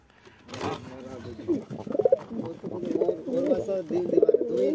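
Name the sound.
pigeons cooing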